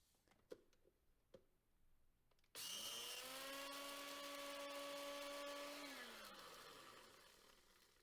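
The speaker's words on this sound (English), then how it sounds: "we'll take the edible gum and blend it in either a blender or a coffee" A blender grinding edible gum into a fine powder starts abruptly as a loud, steady motor whine, holds strong for several seconds, then slowly winds down in pitch and volume. A few faint taps precede it.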